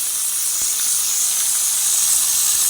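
Drumsticks, tomatoes and green chillies cook in a hot pan with a steady, loud hiss and sizzle that runs unbroken throughout, alone with no voices.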